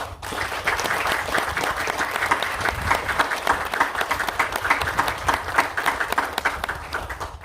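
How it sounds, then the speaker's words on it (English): A crowd at a graduation ceremony claps in a sustained round of applause, dense and fairly loud, holding steady for several seconds with slight swells and a few individual claps standing out. "So I just want to give a round of applause to those people involved with getting this together."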